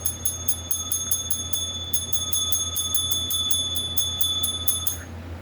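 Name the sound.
bell ringing sound effect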